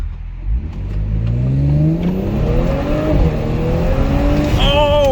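A 2022 Audi S5 Sportback fitted with an 034 intake accelerates hard, its engine note climbing steadily through the gears with rising harmonics, loud and close from inside the cabin, ending in a sharp high whine.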